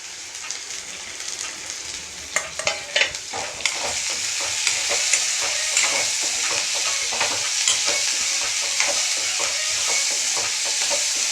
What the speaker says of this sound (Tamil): இது ஒரு நிமிஷம் நல்லா வதங்கட்டும்